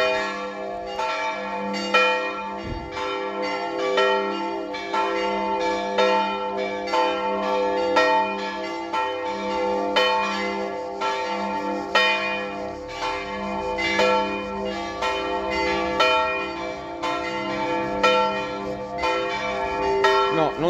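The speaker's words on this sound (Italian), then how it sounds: "mentre suonano le campane." Church bells in an Italian town peal continuously and loudly, with overlapping rapid strikes that ring together in a dense, sustained wash of tones for the whole stretch, with no talk over them.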